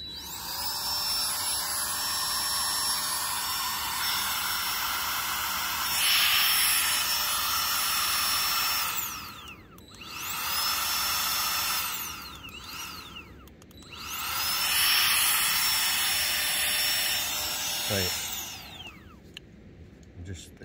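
Aerogogo Giga 2 portable air pump running in several bursts, a loud high-pitched motor whine that spins up, holds steadily, cuts out briefly and starts again, ending with a few clicks.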